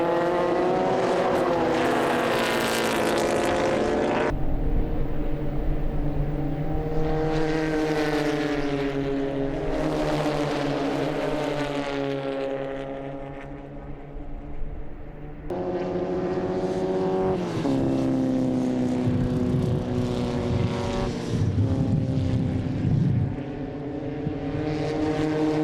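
Formula Vee race cars in the LiTech Systems National Challenge in Western Australia, engines buzzing and rising through gears as several cars pass by in succession, loud and close, with pitch sweeps as each one goes past.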